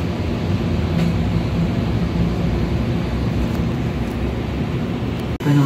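Steady loud rumble and rolling hum from inside a Calgary CTrain SD160 light rail car running on the Saddletowne northeast route, continuous throughout and ending with a brief thump.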